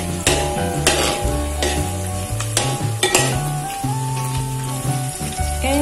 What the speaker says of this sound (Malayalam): അതിലേക്ക് നമുക്ക് പച്ചമുളകും കറിവേപ്പിലയും കൂടി ചേർത്തിളക്കാം